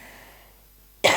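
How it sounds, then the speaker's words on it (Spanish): A woman coughs once, loud and close, in a single abrupt burst after a near-silent stretch of air-conditioned room tone. "me está dando la tos"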